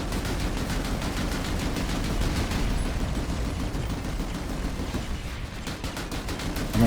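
Rapid turret gunfire in the video game PlanetSide 2 rattles in a dense continuous stream of evenly spaced shots, loud and sustained for several seconds with a brief pause near the end.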